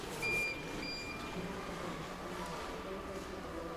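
A soft, unobtrusive warning chime from the tailgate of a 2024 Geely Okavango seven-seat SUV as it closes: a few thin, high electronic tones in the first second, over a steady low background hum.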